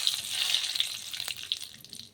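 A bay leaf is dropped into hot oil for tempering and sizzles with a sharp, hissing crackle that is loudest at first and slowly eases off.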